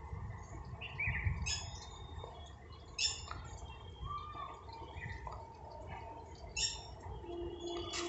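Several small birds chirp and squawk in short bursts outdoors, one seemingly calling from above, with brief bright calls recurring over a steady low background rumble.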